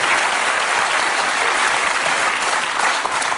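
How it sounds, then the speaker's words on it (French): Studio audience applauding a guest named Catherine on a French comedy show, a dense, steady wash of clapping filling the whole stretch at close range with no voices. "Applaudissements"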